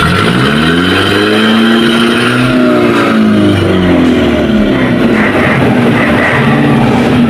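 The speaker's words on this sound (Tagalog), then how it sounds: "i-start na nila yung makina." A loud boat engine, just started, runs close by, its pitch rising and falling as it revs, with a continuous heavy mechanical roar throughout.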